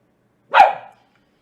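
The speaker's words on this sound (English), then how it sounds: "My dog doesn't appear to like that triple change." A single sharp dog bark, loud and close, stands alone in an otherwise silent room.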